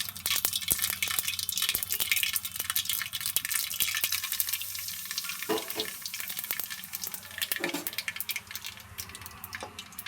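Mustard seeds, sesame and crushed carom seeds frying in hot oil for undhiyu, a dense, continuous crackle of close spluttering pops and hissing that fades slightly toward the end.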